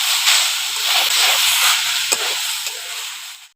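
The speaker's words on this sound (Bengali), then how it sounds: "প্রথমে নারকেলটাকে একটু নাড়াচাড়া করে একটু ভেজে নেব" Grated coconut frying in a hot wok while being stirred, a loud close hiss and sizzle with occasional spatula scrapes, fading out at the end, no voices.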